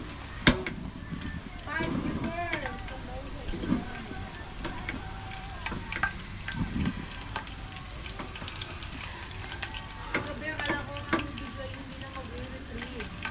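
Ingredients for Filipino kare-kare frying in hot oil together in a pan, a steady close sizzle with occasional stirring clatter, and a voice talking intermittently over it.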